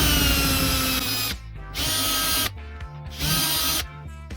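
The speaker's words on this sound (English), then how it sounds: "we're gonna drill out these rivets and see what it looks on the inside" A power drill drilling out rivets on a 1994 Mustang GT AODE transmission whines in three bursts, each starting and stopping abruptly, with short pauses between them.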